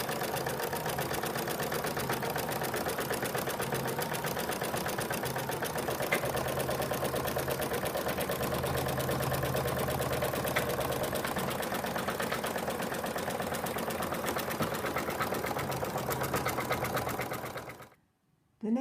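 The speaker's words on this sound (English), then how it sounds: "So now we're going to stitch out the next color." An embroidery machine stitches out the next colour of an in-the-hoop phone case, a loud, dense, rhythmic rattling hum running without pause for most of the time before stopping abruptly near the end.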